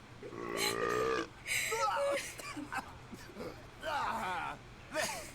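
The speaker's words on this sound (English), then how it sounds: "Yaks ruminate food they eat while they digest it. Their burps are one of the foulest things you'll ever smell." Yak burping from the video game Tales of Berseria, heard as drawn-out, guttural voiced belches in several bursts, mixed with character speech and reactions.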